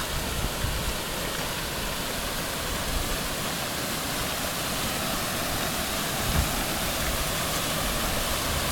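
Steady broadband rush of water gushing from an illegal well discharge into the Kings River during a fourth-year drought, a constant roaring flow with no let-up, close and loud.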